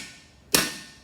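A single sharp hammer tap drives a part into place during farm machinery repair, one crisp metallic strike against a quiet background.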